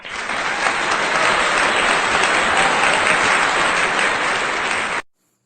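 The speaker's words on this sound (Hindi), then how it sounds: "सभी कवित्रियों का जोरदार ताली लगाकर, तालियों के साथ जोरदार स्वागत कीजिए।" Loud, sustained applause from an audience welcoming poets at an evening poetry gathering honouring martyrs, dense clapping that holds evenly and then cuts off abruptly.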